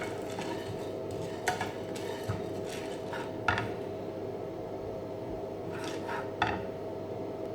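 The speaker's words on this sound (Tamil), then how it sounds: "கடலை பருப்பு வெறும் பாத்திரத்திலே வறுத்துக்கலாம்." Chana dal dry-roasting in an empty pan with no oil, stirred with a utensil that scrapes and clinks against the metal in occasional sharp taps over a steady low background hum.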